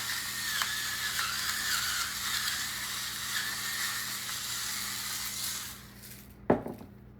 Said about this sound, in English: Put a little pepper in it